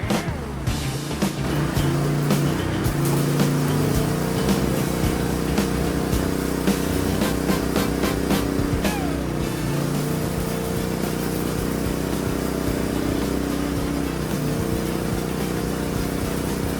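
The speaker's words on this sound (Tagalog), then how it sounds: "Napakadali i-start ng generator na to dahil sa kanyang remote control." A Philking PK4200 remote-start generator runs with a steady, loud engine drone and a constant mechanical hum, close by and with no talking over it.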